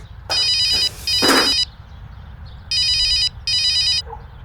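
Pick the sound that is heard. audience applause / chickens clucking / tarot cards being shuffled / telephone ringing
telephone ringing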